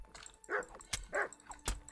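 A dog in Kingdom Come: Deliverance gives two or three sharp, close barks with short whimpering yips between them, separated by loud clicks.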